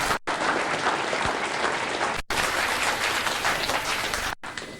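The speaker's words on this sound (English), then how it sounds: "Round of applause, please." Sustained audience applause fills a hall at the first Tracking the Dragon convention in London, 1990: dense, loud clapping that briefly cuts out twice before resuming.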